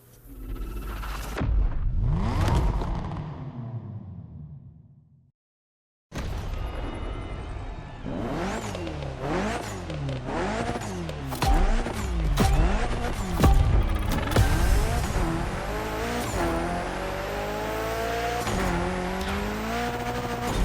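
Mitsubishi EVO IX rally car in a Gymkhana driving video game, engine revving hard with repeated rising and falling pitch sweeps and tire squeal, loud and continuous after a brief silent gap near the start.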